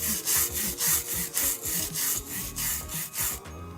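SNES cartridge pins being rubbed clean with rubbing alcohol, a close, steady back-and-forth scrubbing of about eight even strokes that stops just before the end.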